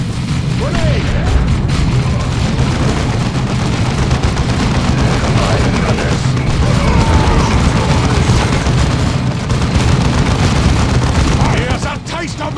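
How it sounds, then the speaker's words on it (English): A grenade explodes amid battle in the video game Warhammer 40,000 Dawn of War II, heard as a loud, dense roar of booms and rumbling that lasts throughout and dies down only near the end. "Grenade!"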